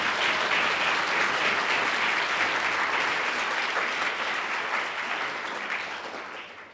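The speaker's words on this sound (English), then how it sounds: "I think you really earned a big applause for that" Conference audience applauding after a keynote talk, sustained dense clapping that holds steady and then tapers off toward the end.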